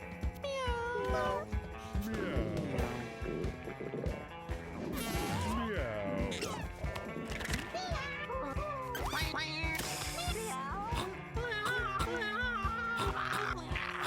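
Cartoon cats meow repeatedly in the video game Mewgenics, layered over busy game music and effects, with a person talking now and then.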